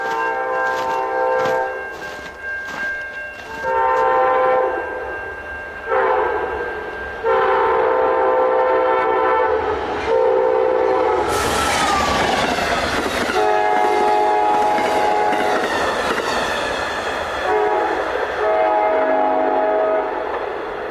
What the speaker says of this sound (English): Okay, here we go with the train.